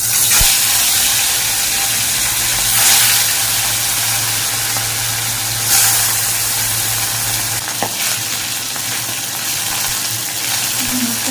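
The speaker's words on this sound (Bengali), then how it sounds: "মাছগুলো ভেজে নেব।" Fish frying in hot mustard oil in a wok, a loud continuous crackling sizzle up close, with occasional spatter bursts and a low steady hum underneath.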